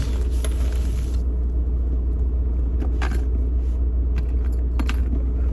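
Security keys jangling, a few light metallic clinks and rattles while a DVR camera kit is unpacked inside a vehicle, over a heavy steady low engine rumble.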